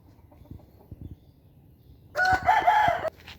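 A young fighting rooster, eight to nine months old, crows loudly nearby for about a second, after a few soft thumps and rustles in an otherwise quiet setting.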